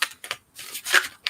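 A deck of tarot cards is shuffled by hand in several short riffling bursts. Brief papery flutters come close to the mic with small gaps between them and no talk.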